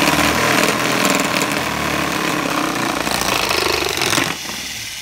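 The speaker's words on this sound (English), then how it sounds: "So this machine is going to spin heavily" Electric motor spinning heavily, a high-horsepower machine built to drive a small generator, runs as a loud, steady, continuous whine and drone close by, then drops in level near the end.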